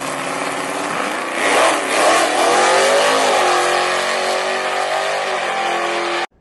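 A 1970 AMC Hornet engine revs loudly and close up, its pitch climbing and rising in a strong sweep around the midpoint, then holding a steady high drone before cutting off abruptly.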